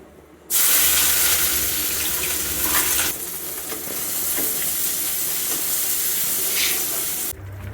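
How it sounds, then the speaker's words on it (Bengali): Cumin seeds, onion and garlic dropped into hot oil burst into a loud, sudden sizzle that holds steady as a bright hiss, dipping briefly partway and ending abruptly, close up with no talking. "তো তেল গরম হয়ে গেছে, এবার কয়েকটা জিরে দিয়ে দিচ্ছি। এবার পেঁয়াজ ও রসুন দিয়ে দিচ্ছি।"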